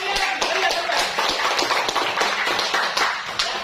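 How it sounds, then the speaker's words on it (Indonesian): A classroom of students claps for a presenting group, brisk, closely packed handclaps at a fairly even rhythm, moderately loud and close, with no voices standing out. "tepuk tangan dulu untuk kelompok 1"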